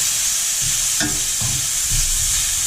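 A steak sizzles in a frying pan on a gas stove, a steady close crackling hiss broken by a few soft clinks and scrapes as it is moved.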